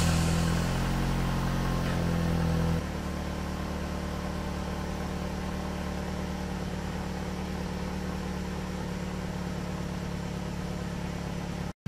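A car engine starts with a brief loud burst and then settles into a steady idle with a faint rhythmic ticking that may point to an exhaust manifold leak, heard up close with no talking.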